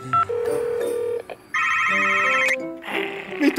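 A telephone rings at a pizzeria in the animated Garfield Show, with loud, close electronic ring bursts and tones repeating in short phrases, separated by brief gaps.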